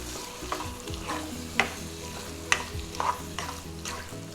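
Petite peas tossed into sautéing vegetables for pav bhaji, a soft steady sizzle from the pan with scraping stirs and a few clinks of a utensil against the pot.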